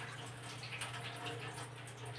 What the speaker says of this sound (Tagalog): Kaya tamang-tama po itong strainer, yung tubig po ay tumutulo po.